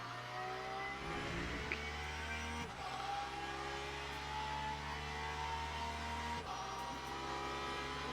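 Hypercar and GT3 race cars at Interlagos in a sim racing game, their engines droning steadily with harmonic whines that shift in pitch as cars sweep past, loud and continuous without speech.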